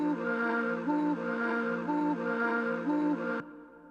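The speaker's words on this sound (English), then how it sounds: "another sort of vocal loop comes in," An 'ooh' vocal loop sample in a music production repeats a sustained sung vowel with a recurring rising pitch step about once a second, then cuts off abruptly just before the end.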